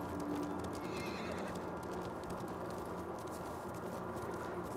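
A horse in the game Ghost of Tsushima whinnies loudly at the start, followed by steady clip-clop of hooves over a continuous rumbling background.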